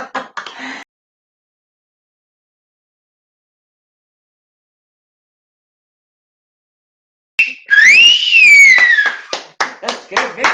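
A person whistles a bright, gliding melody near the mic, starting after a long silence and followed by a run of sharp claps or taps; a brief bit of talk opens the clip.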